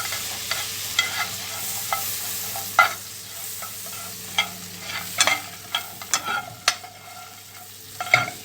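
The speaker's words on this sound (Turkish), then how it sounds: "Şu kızaran ekmeklerimize biraz tereyağı böyle tavamıza atıp güzel bir aroma verelim." Toasted bread fries with butter in a pan, giving a steady sizzle broken by scraping and clinking stirs, close by and without voices.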